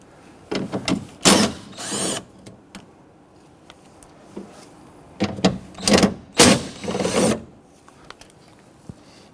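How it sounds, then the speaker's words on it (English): Power tools loosen and remove the three nuts securing the rear power window regulator motor on a 1992-1996 Toyota Camry, in several short close bursts with pauses between. "And remove the three nuts securing the motor."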